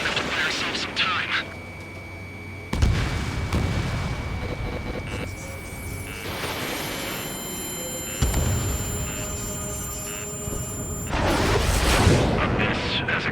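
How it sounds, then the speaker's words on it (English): Deep thunderous railgun shots in Ace Combat 7, two massive booms with long rolling rumble over a constant jet-engine drone, while radio voices talk. "No, it's a railgun."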